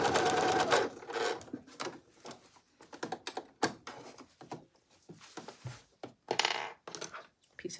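A brief burst of sewing machine stitching on a side seam is followed by scattered sharp clicks, taps and knocks of handling, close and irregular, with no voice.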